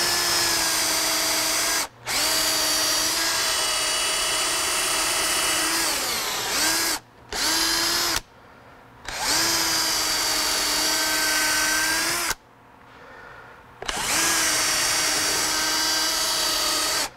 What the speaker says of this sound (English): you're supposed to be able to kind of walk the drill bit around the outside